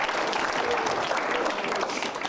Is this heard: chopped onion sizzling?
no